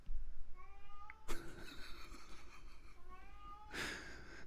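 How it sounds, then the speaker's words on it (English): Cats sitting at a door meow repeatedly, several clear rising and falling meows spaced across a few seconds, fairly close and distinct against a quiet indoor background with a sharp thump between them. "I love how my cats decide to sit at my door and meow."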